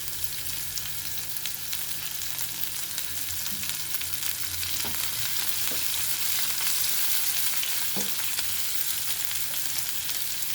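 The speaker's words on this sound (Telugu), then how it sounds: "ఇప్పుడు అందులో క్యాలీఫ్లవర్ వేస్తున్నానండి" Small-cut cauliflower pieces sizzle in hot oil in a pan for fried vegetable semiya, a loud dense continuous hiss with a few soft clicks of stirring, no voices.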